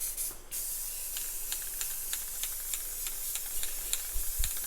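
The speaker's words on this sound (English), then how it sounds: "give this whole thing a quick spray with clear coat after shaking it really good" A steady, close hiss of an aerosol can spraying clear coat continuously over spray paint art, with a few faint clicks and knocks beneath it.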